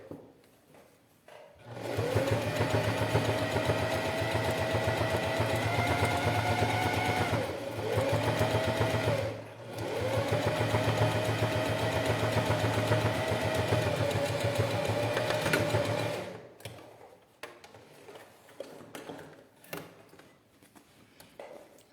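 A sewing machine stitches a small fabric pouch in two long continuous runs with a brief stop between, a steady mechanical hum close by, followed by quieter handling noises.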